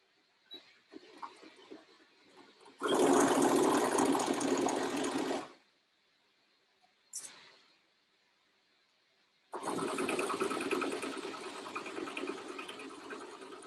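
A sewing machine stitches the side seam of a child's dress skirt tier in two long, loud, steady runs, separated by a brief burst and quiet pauses with light handling sounds.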